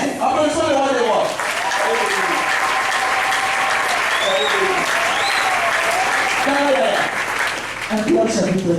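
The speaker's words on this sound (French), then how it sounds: "Applaudissons le roi des rois." Sustained, loud applause from a church congregation fills the hall, with voices and cheers rising through it and speech breaking in near the start and end.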